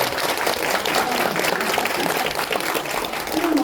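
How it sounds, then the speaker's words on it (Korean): A church audience claps together in sustained applause, a dense steady patter of many hands that carries on throughout. "박수 한번 쳐주세요."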